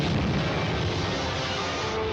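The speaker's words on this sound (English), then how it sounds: "Firing ray gun." A ray gun fires in an old monster-movie serial, a loud continuous roaring blast with dense low rumble, like sustained artillery, holding steady for about two seconds with no pause.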